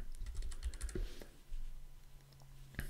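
Computer keyboard typing during a Home Assistant setup session, a quick burst of soft key clicks close by, then a pause and a single final keystroke near the end, with no talking.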